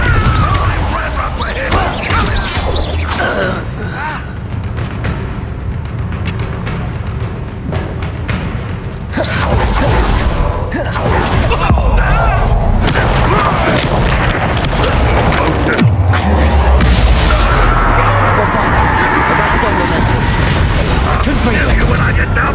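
Confringo fire spell explosions in Hogwarts Legacy come as a run of loud booms and cracks with heavy thuds and crashing debris, mixed with game voices and background score.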